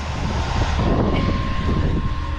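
Strong wind gusting hard across an outdoor setting near a 15 ft jack-o'-lantern Halloween inflatable, a loud, continuous broadband roar that buffets steadily, with no voices.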